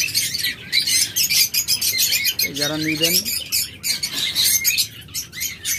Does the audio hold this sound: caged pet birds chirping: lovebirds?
yes